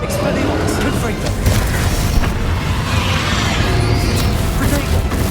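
A Confringo fire blast spell from Hogwarts Legacy rumbles in a loud, sustained roar of dense low booms and crackling bursts with no clear pauses, and voice-like game sound blends into the mix.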